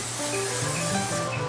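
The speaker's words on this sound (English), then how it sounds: "Use spray. Okay, I just got some generic olive oil there." Olive oil cooking spray hisses onto a Lodge cast iron grill griddle in one continuous, close, loud burst lasting about a second and a half.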